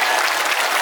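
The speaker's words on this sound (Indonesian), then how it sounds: "Tepuk tangan untuk Mas Ipang Wahid." Audience applause at a pesantren gathering hosted by Gus Miftah, honoring a guest; dense, steady clapping from a crowd, loud and continuous throughout the short stretch.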